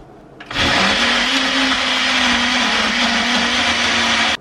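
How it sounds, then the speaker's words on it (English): A blender purees beef liver for a paleo beef scramble, switching on after a brief pause and then running as a loud, steady, continuous whir with a constant motor tone until it cuts off at the end. "And I'm gonna puree this."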